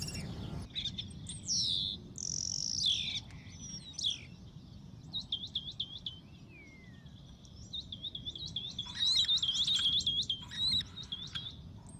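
Lesser kestrels calling at their nesting site in the Burgos region of Spain in spring: repeated shrill, chattering chirps in bursts over a soft insect hum, at moderate distance.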